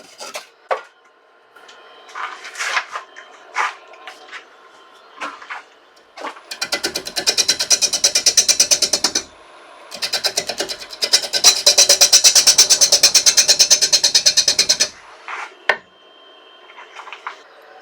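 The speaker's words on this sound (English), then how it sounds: "just remove the knobbly bit with a saw to make turning the end easier" A handsaw cuts through a knobbly end of wet walnut on a lathe, two close bursts of fast rhythmic strokes separated by a short pause, with scattered knocks before and after.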